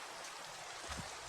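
Rain in the video game Minecraft gives a faint, even patter of broadband hiss over a short stretch, with a slight swell near the end.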